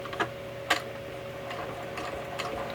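Sewing machine stitching along a hem fold at a stitch length near 3.5, a steady mechanical whirr with faint ticking, plus a couple of sharper clicks at the start, close and without talk.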